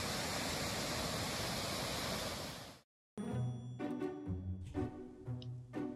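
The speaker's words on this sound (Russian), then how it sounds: "вот такой небольшой, но красивый водопад, который я заприметил на карте" A small waterfall in a mountain gorge gives a steady, loud broadband rush for nearly three seconds, then cuts off abruptly before other, uneven sounds follow.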